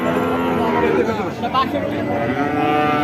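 Young local-breed bull calves low loudly at a rural cattle market, a steady run of drawn-out moos close by, with people talking nearby throughout.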